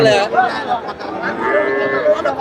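Young heifer calves low and moo at a busy rural cattle market in Joypurhat, their calls rising over steady crowd chatter and nearby voices throughout.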